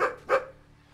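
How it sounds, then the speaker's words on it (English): A dog barks twice in the video game Phenexa, two quick, close, fairly loud woofs with a short gap between them, and then quiet ambient game sound. "Oh? Doggy?"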